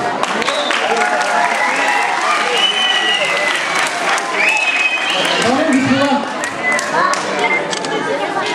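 A concert audience at a "Buket" contest in Yambol gives steady, dense applause that carries on without a break, close and loud in a large hall.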